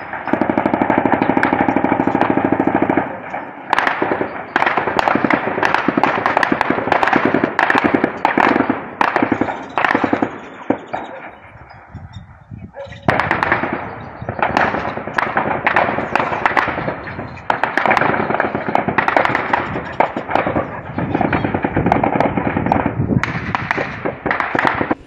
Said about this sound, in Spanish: en estos se escucha hasta ráfagas de metralleta